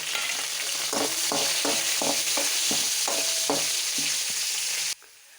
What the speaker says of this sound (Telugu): ఎండుమిర్చి వేయాలి.